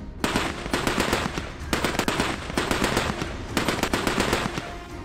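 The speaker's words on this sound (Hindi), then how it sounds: "मशीन गन से बारूद बरसा है" Machine gun fire during a commando strike: three long, loud bursts of rapid shots, each a fast rattling stream, with short gaps between.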